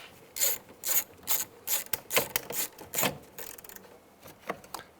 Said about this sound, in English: take this bolt right here and tighten that down